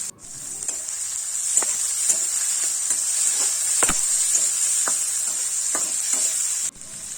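Chopped onion and crushed garlic with dried red chilli and nigella seeds sizzle loudly in hot oil in a home kitchen, a steady bright hiss broken by spatula stirs and light scrapes against the pan, with no talking.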